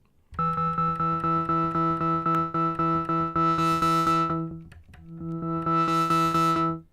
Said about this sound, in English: You hear the filter coming on there, right?